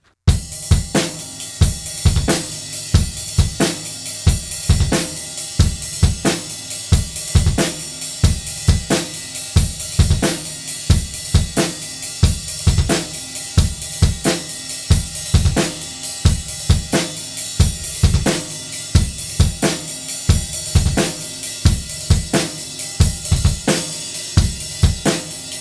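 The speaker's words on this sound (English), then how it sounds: "the 16th notes from the ride are going to kind of pass into the 16th notes on the bass drum" A drum kit plays a steady groove in which ride cymbal 16th notes pass into 16th-note bass drum strokes. The pattern is loud, close and repeated throughout, with no talking.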